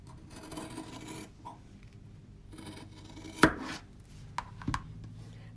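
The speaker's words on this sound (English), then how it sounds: "I'm just going to chalk it so you can see it on camera." Chalk marks fabric binding along a crease in a few faint, quiet scratchy strokes, with a couple of sharper scrapes and taps toward the end over soft room noise.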